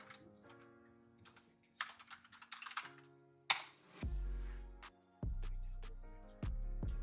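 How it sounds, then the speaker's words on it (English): Quick bursts of clicking on a computer keyboard during a livestream, with clusters of keystrokes and pauses between them, fairly faint, heard over background music tones and deep thumping bass without talking. "I'll type it in the chat"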